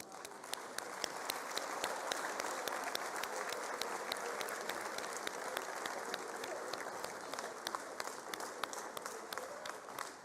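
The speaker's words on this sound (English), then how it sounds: "please give them a round of applause" An audience at a 2022 matric results announcement gives sustained applause for top learners, many hands clapping steadily at a distance for about ten seconds, with no voices over it.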